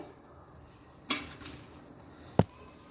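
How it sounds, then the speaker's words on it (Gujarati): A spoon scrapes and knocks against a pan while rice, moong, and coriander are mixed over a low gas flame. Two sharp metallic clinks land about a second apart over a faint, quiet background. "અને હવે આને સારી રીતના આપણે મિક્સ કરી દઈશું।"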